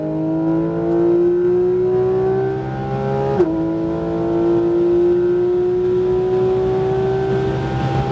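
A sports car accelerates hard at full throttle on a track, its loud engine tone climbing steadily, dropping sharply at a gear shift near the middle, then rising again in a sustained close roar.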